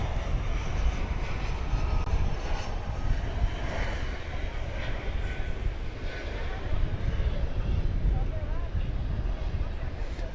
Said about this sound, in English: Another A321 coming in from Los Angeles.